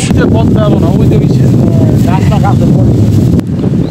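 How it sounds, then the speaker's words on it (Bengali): Cold wind roars and buffets the microphone in a loud, constant rush, with voices talking over it, on a river char island at Harirampur, Manikganj. "ঠান্ডা একটা বাতাস ছাড়ছে, হিমেল বাতাস"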